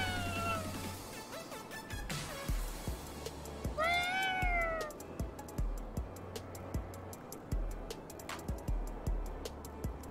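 A cat yokai in the game Ghostwire: Tokyo meows, with a few plaintive calls including one clear, drawn-out meow, over steady ticking and low game ambience.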